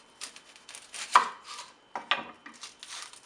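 An onion being chopped with a knife on a cutting board while filling is prepared for a tart, giving irregular knife strikes of varying force up close, with no talk.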